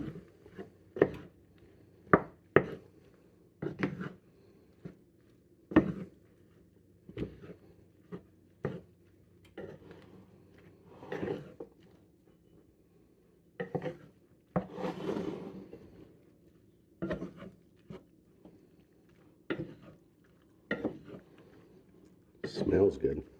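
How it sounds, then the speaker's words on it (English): Creamy peas and carrots from the garden stirred in a pot with a spoon, giving sharp intermittent scrapes and clinks spaced over time, with a low hum underneath and brief moments of talking. "So let's give that a stir here."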